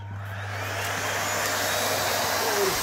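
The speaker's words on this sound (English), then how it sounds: "so I'm back to vacuum the board." A vacuum cleaner runs on a handmade Middle-earth miniature battle board of Fangorn forest, giving a steady, loud whooshing roar with a faint rising whine near the end.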